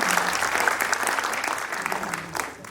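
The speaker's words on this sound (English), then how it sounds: "can we have some applause, please?" An audience claps steadily and enthusiastically at a film premiere, a dense, continuous wash of applause with no talking over it.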